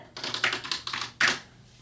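Quick bursts of typing on an Apple IIe Enhanced computer keyboard, about a dozen clattering keystrokes in uneven clusters, close and clear, ending with one louder key press.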